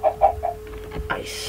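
Chicken clucking in a video game: a few short, close clucks near the start, with faint talk and game sounds behind.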